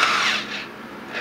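A power drill fitted with a 3/4 inch paddle bit boring into material in a short, steady whirring burst during a steady cam build.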